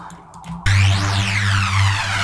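A loud, deep synth bass note holds steady, with a sweeping, whooshing flanger effect gliding up and down through its upper tones.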